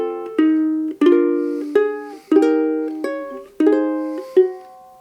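Guitar chords voiced with an added flat seventh, strummed one at a time, about seven clear ringing chords in an even rhythm, each sustaining and decaying before the next, with no voice over them.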